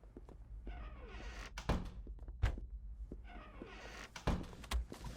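A door thuds shut in the stealth game Unheard, a dull close thunk with a second heavier knock near the end, over a low steady room hum and faint background ambience.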